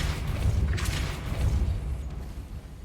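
The Depulso force spell is cast in the Hogwarts Legacy video game, giving a deep, rumbling boom that fills the clip. It swells and fades in low, heavy waves for a few seconds.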